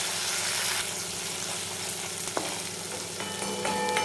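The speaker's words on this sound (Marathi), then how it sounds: "आणि 2 मिनिट छान ह्याला पण परतून घेणार आहे" Masala paste for a Kolhapuri mutton curry sautéing in oil in a pan with a little added water, a steady close sizzle and frying crackle with occasional stirring scrapes and small clinks throughout.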